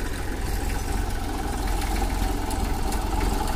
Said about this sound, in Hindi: मैसी फर्गुसन 35 बहुत ही पुराना ट्रैक्टर है और ऐसा लग रहा है बिल्कुल नया